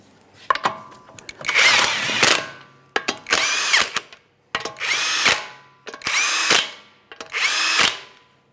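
Power tool driving the 21mm lug nuts onto a Nissan Maxima wheel, five separate loud whirring bursts of roughly one second each with short gaps between, close up and without talk.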